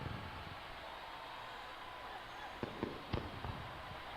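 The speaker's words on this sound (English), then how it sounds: "Loving the fireworks." Fireworks from a PC baseball video game at the end of a match give a handful of faint pops and cracks over a low, steady crowd-like background.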